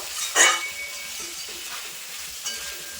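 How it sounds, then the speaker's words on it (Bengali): Capsicum pieces sautéed with spices in a pan for a Bengali rui fish curry: a low steady sizzle with a sharp scrape of a spoon early on and soft stirring knocks after. "মশলার সঙ্গে ক্যাপসিকামগুলো কিন্তু খুব ভালোভাবে কষিয়ে নিয়েছি"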